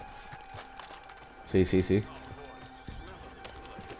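Three quick, heavy hooflike thumps from a horse in Red Dead Online land close together mid-clip over a low game background, with a voice talking briefly.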